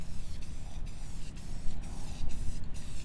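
Black Rust-Oleum spray paint hisses from a can onto a Subaru Forester in a steady close spray, broken by a few short pauses between passes, with no talking.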